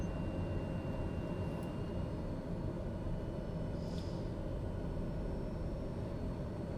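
A flight simulator airliner rolls for takeoff with a steady, broadband jet engine roar that stays constant and loud throughout, with no talking.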